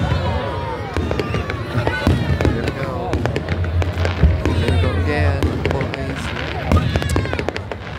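Fireworks bursting at the Ballycastle firework event beside a funfair, with sharp cracks and pops scattered through the clip over a busy crowd, voices chattering and shouting throughout.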